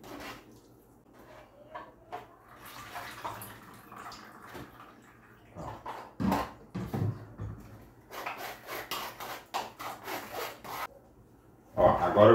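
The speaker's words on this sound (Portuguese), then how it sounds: "Aí eu vou tá apertando bem para tirar bem o sumo mesmo." Grated corn pulp squeezed by hand to press out the juice, close wet rubbing and squelching in irregular bursts with brief dripping and handling noises, no talking.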